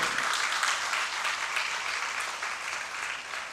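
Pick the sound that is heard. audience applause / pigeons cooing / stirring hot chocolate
audience applause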